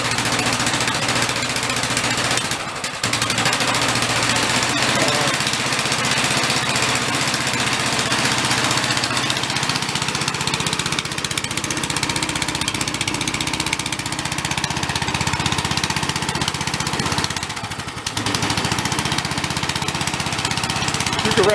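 A small engine, freshly repaired after knocking with a hole in its block sealed with silicone, runs steadily throughout with a dense, rough mechanical drone, dipping briefly twice as if throttled back.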